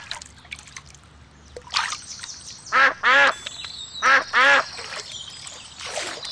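Ducks quacking in a Peppa Pig video game: two pairs of loud, close quacks over a soft watery background with a faint trickle.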